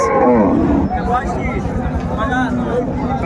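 At a busy rural cattle market, cows with their calves give drawn-out lowing calls that rise and fall. The calls are loud and close, mixed into a noisy crowd of people talking.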